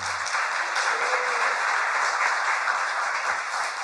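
Applause from a live studio audience at a Korean political talk show, honoring a person: a dense, steady wash of many hands clapping that holds at an even, fairly loud level throughout, with no voices on top.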